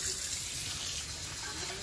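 Lukewarm water pours steadily into a bowl of toasted flour for gumbo, a continuous close splashing gush with no talk over it.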